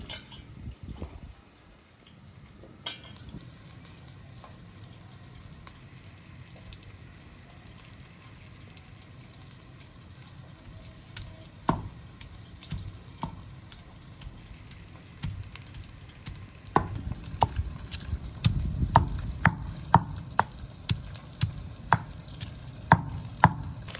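Onions frying in ghee on a clay village stove: a steady hiss that swells into a louder, crackling sizzle in the second half, broken by scattered sharp pops and stirring clatter, with no talk.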